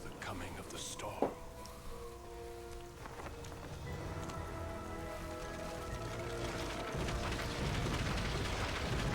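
Steady rain with a brooding storm atmosphere in Return to Castle Wolfenstein builds into a dense, continuous hiss that grows slightly louder over time, with low voices murmuring beneath it.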